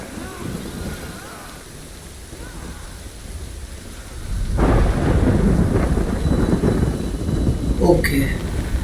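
Thunderstorm in the video game Death Stranding: steady rain hiss and rumble that swells sharply midway into heavy downpour with a thunder crack near the end, fairly loud and close, with no talking over it.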